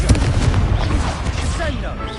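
Confringo fire spell blasts in the Hogwarts Legacy video game make a dense burst of booming, crackling impacts at the start, then fade into a rumbling tail with swooshing effects. A voice is heard alongside.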